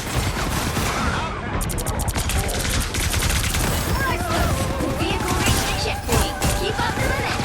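Rapid gunfire from a Marvel video game, dense bursts of shots and crashes filling the whole stretch loudly, with game effects layered throughout.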